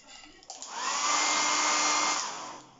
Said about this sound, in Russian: Здесь фен